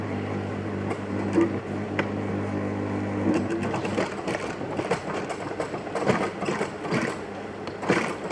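A sewing machine stitches the upper of a women's high-heel sandal, its motor running as a steady hum under a busy rattling patter of needle strokes, near and continuous, with no voices.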